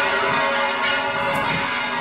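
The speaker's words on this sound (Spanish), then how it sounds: "mira, escucha las campanas." Church bells ringing in a town, a steady dense ringing that fills the whole two seconds without pause, with no talk over it.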